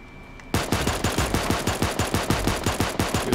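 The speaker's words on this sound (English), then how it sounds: "Oh, shooting outside." Rapid automatic gunfire in the Super Animal Royale video game, a steady stream of sharp, evenly spaced shots that starts abruptly and continues loudly without pause.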